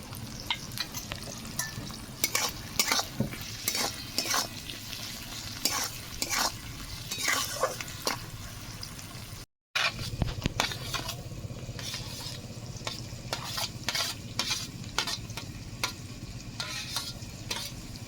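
Onions and tomatoes salted and frying in a pan in a home kitchen, stirred steadily, with a constant close sizzle and repeated spoon scrapes and clicks against the pan, broken by a brief gap partway through.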